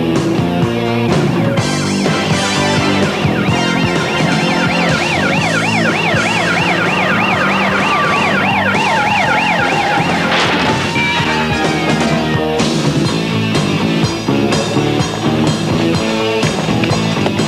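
A police siren wails continuously, switching between rapid yelp and slower rising tones, loud and close over a rumbling vehicle engine.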